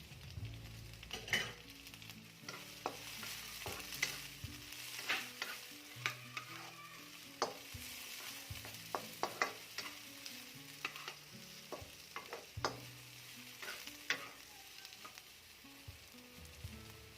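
Onions fry in a pan for monggo, a low steady sizzle broken by frequent scraping clicks of a spatula stirring, close up and with no talking.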